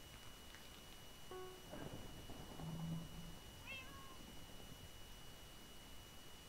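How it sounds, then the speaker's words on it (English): Cat meows from a player in the Minecraft Block Hunt game, a couple of short, faint calls set against a steady noisy background. "I'm gonna meow a couple times, see if we can get rid of him."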